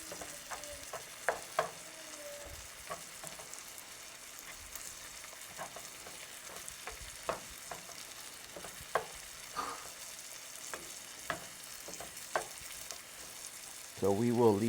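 Onions and tomatoes cooking in a pan for Tex-Mex charro beans: a soft, steady sizzle with scattered clicks and taps of the utensil, ending in a louder burst of noise.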